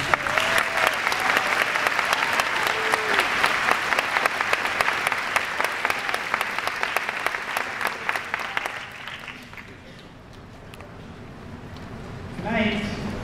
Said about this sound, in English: Love to give another round of applause to our speakers, Olivia, Jenna, and you.